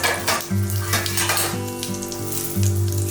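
Mustard seeds, cumin and asafoetida crackling and sizzling in hot oil for a tempering, a loud close spluttering with utensil clinks over a low background hum.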